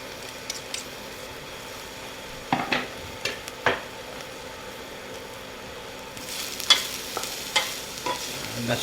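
Garlic frying in a pan for a crunch wrap filling, with a steady soft sizzle under scattered stirring scrapes and light utensil taps, close and moderately loud.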